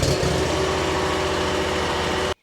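Kawasaki engine of a Hustler Fastrak zero-turn mower idling just after an oil change, a loud, steady mechanical drone with a constant low throb, close up, cutting off abruptly at the end.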